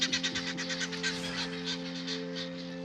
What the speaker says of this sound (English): the geese. They're my...